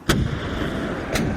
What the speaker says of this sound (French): l'empereur donne soudain l'ordre aux canons de faire feu